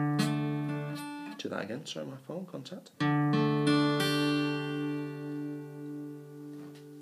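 Open D 4th chord on a four-string voicing, strummed and left ringing on a guitar; someone talks briefly over the middle before the chord is struck again and sustains, slowly fading.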